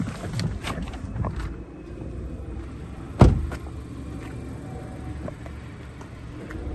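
A person gets out of a Snowflake White Pearl Metallic Mazda6 2.0 SKYACTIV-G SE-L Lux Nav+ saloon, with faint rustling and movement and then one sharp door thud midway through, set against a quiet steady background.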